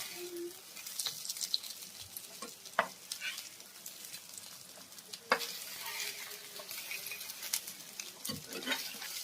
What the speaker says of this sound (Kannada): ಒಂದು 5 ನಿಮಿಷ ಹೀಗೆ ಫ್ರೈ ಮಾಡಬೇಕು